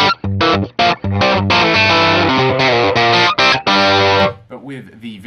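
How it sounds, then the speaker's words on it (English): An electric guitar plays a driven rhythm riff through the Axe-Fx III FAS Rhythm amp model paired with a Celestion Blue speaker impulse, with choppy stabs and sustained distorted chords that fade into a softer ringing tail. "FAS Rhythm. I've got this paired with a Celestion Blue impulse at the moment"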